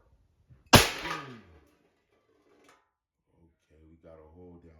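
A .22 rifle or airgun shot strikes a tin can: one sharp, loud metallic crack with a short ringing decay, followed by quiet and then people talking.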